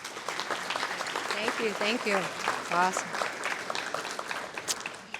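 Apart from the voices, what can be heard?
summit audience round of applause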